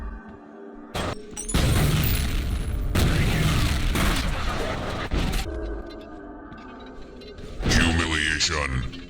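Grenade explosions in the first-person shooter F.E.A.R., heavy booming blasts with debris and shattering, a sustained loud stretch followed by another burst, with game noise between.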